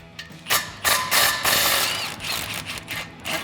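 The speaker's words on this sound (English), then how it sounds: "I'm going to use the 13mm swivel socket just because the one on the back side here is a little bit at a weird angle" A hand ratchet with a 13mm swivel socket backs off exhaust flange bolts on a 2011-2014 Ford F150 during a resonator delete, giving several close, loud bursts of rapid clicking with short pauses between strokes.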